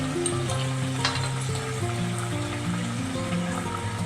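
A spice paste with turmeric, for hilsa curry, sizzles and bubbles steadily in a pan with occasional stirring. Background music plays throughout.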